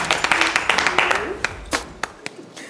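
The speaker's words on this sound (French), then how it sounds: "Applaudissez pour elle." An audience on a French-language TV variety show applauds as a woman is welcomed onstage, with scattered, uneven claps that thin out over a few seconds while a voice talks.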